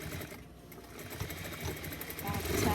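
A sewing machine back tacks a seam on a doll bodysuit, a close, fairly quiet mechanical stitching that runs under a voice speaking.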